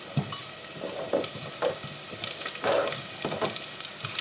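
Garlic and shallots sizzle and crackle steadily in oil in a pan, with occasional stirring clatter and bursts of louder frying; no one speaks.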